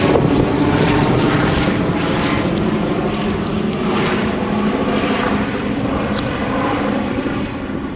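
A small propeller aircraft with its landing gear down drones steadily overhead, loud and continuous with a broad engine roar and some wind buffeting, and no voices.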